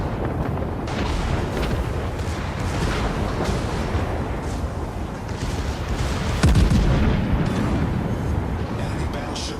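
Battleship Bayern's main guns firing in World of Warships, heavy booms and rumbling shell blasts under steady game noise, with someone talking over them throughout.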